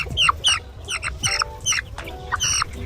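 A two-month-old Brahma chicken clucking close by in a backyard farm, several short bursts of bright, rhythmic clucks in quick succession with no talk.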